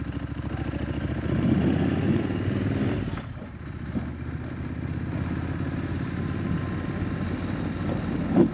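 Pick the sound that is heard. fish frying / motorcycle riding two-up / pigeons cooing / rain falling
motorcycle riding two-up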